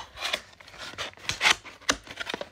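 Cardboard toy-shop stand folded down by hand: a run of close crinkling creases and sharp papery snaps in irregular bursts, fairly loud, with no talking.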